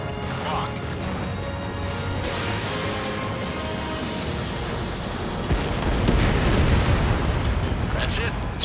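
An enemy bomber explodes after being shot down in the Ace Combat 7 video game, with a dense roaring rumble of jet noise swelling into a louder blast near the end as radio voices talk.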